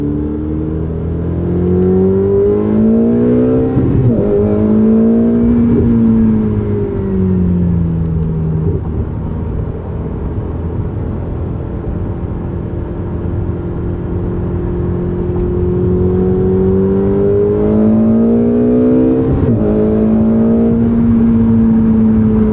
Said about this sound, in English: And this V8 loves the revs.